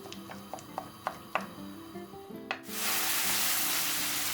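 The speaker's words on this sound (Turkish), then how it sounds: "Şöyle bu arkadaşı güzel bir yağda soteliyoruz." Ground meat, about 300 grams, drops into hot oil. A few sharp clicks and taps come first, then a loud, steady sizzle rushes up and holds.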